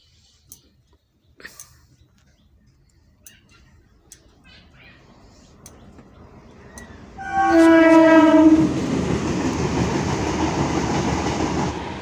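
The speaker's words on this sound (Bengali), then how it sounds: "দেখেছো একদম ট্রেন গাড়ি চলে গেল" A train approaches from quiet, then sounds a loud horn and rumbles past close by, its wheels roaring and clattering steadily as it goes.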